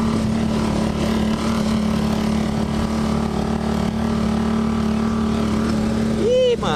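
A quad bike engine revving on a muddy trail, a loud, steady droning hum close by, with a brief rising whine near the end.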